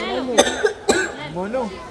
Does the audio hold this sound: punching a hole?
no